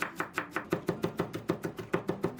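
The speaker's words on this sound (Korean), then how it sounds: "양파 4분의 1개 다져줍니다" A knife minces a quarter of an onion on a cutting board in a steady run of about fourteen quick, crisp chops, close and alone without any voices.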